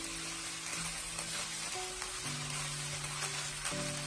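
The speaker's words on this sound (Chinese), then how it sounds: "我们要开小火把肉丝划散，然后把肉丝炒至微微的变色" Shredded pork stir-fried in a little oil over low heat in a wok, a soft, even sizzle with faint hissing and occasional light scrapes, heard close with no talking.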